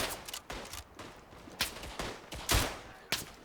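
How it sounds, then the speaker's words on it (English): Rifle and machine-gun fire in the World War I shooter Tannenberg, set around battlefield earthworks, with repeated sharp gunshots and a rattle of distant firing, several loud cracks close by. "Gotta shoot these guys back."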